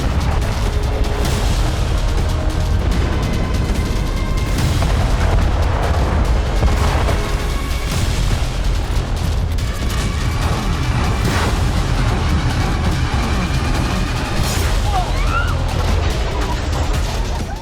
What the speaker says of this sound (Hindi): खार्किव पर 15 दिनों से लगातार भारी गोलाबारी हो रही है।